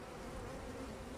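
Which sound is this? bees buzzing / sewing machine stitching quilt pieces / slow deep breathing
bees buzzing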